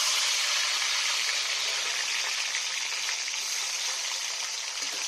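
Tomatoes frying in hot oil in a pan during Bengali home cooking in Purulia, a steady bright sizzle and crackle that holds evenly throughout, close and fairly loud with no talk over it.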